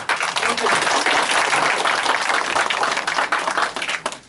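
Loud, close applause rises from the audience at a policy meeting in Gumi, with many hands clapping steadily before tapering off at the end.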